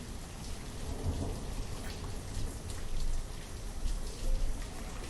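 Rain and thunder in the city-building game Banished: steady rainfall patters throughout while deep thunder rumbles roll in and swell several times, all without speech.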